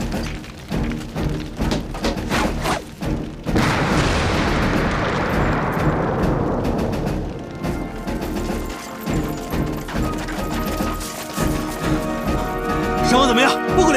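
Hand grenades explode in a jungle battle between soldiers, a dense crashing blast swelling from about three to seven seconds amid scattered thuds and debris, with shouting voices over the noise.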